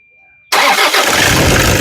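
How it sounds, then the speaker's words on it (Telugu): A 2015 Toyota Innova 2.5 GX engine cranks and catches after a moment of silence, then settles into a loud, steady, close-up running rumble. "ఒకసారి ఇంజన్ స్టార్ట్ చేయి"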